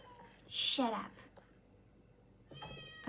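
A person imitates a cat's meow, a single drawn-out, rising-and-falling mew near the start, then another short meow-like call at the end, close and moderately loud.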